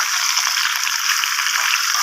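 Pumpkin and mixed vegetables for a fish-head curry fry in a pan just uncovered, giving a steady, close, bright hiss with no talking.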